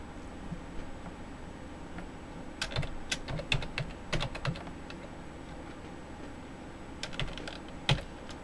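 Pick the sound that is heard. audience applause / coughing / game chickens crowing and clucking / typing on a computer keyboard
typing on a computer keyboard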